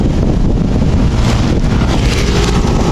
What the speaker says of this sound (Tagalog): Dito sa paligid oh, malakas ng hangin.